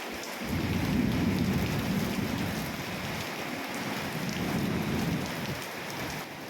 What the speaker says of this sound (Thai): เมื่อสายฝนเริ่มโปรยปลายลงมา